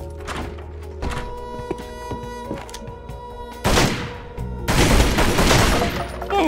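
Gunfire in Tomb Raider: Legend, set in Croft Manor: several sharp shots early on, then two longer, louder bursts of rapid fire over a steady game background.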